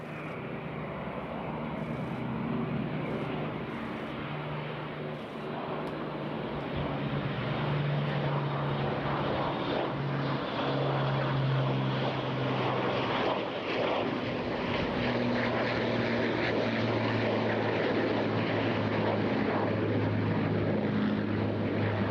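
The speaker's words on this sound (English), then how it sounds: "PA-474 is only one of two of these iconic four-engine heavy bombers still airworthy" Avro Lancaster PA-474, a four-engine heavy bomber, flying at an airshow, giving a steady, loud piston-propeller drone with a low throbbing hum that holds throughout without voices.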